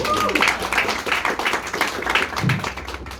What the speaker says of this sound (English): Can I get another round of applause for them?